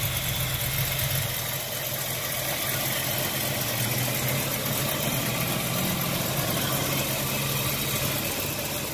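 A 1965 Pontiac LeMans GTO idles steadily close by, its engine a continuous low rumble with a faint vibration underneath and no voices.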